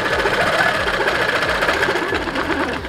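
A longarm quilting machine stitches along a wave ruler in a steady, rapid mechanical whir and buzz, loud and close, with no talking.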